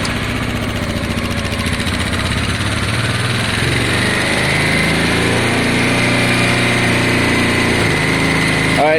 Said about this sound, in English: I'll show you that I think this bike will still start